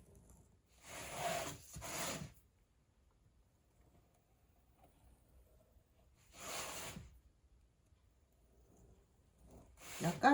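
Clay is cut along a drawn line for a ceramic wall-mounted vase, giving a few short scraping rasps in separate bursts, close and quiet with silence between.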